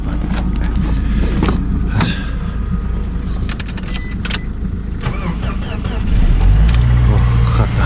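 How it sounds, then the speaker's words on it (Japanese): Toyota HiAce camper van engine cranking and starting in winter cold in Hokkaido, the motor catching near the end and settling into a loud, steady low rumble, with people talking quietly over it earlier. "寒いからエンジンかかるか。"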